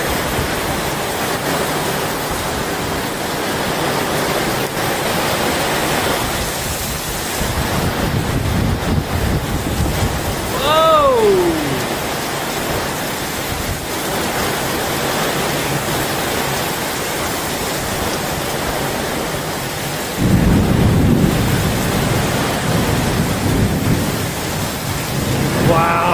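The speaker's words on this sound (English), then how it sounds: "I have never seen rain like this ever in my life." Heavy rain roars steadily in a thunderstorm, with wind buffeting the microphone and deep rumbles of thunder swelling at intervals; a brief whistling tone cuts through midway.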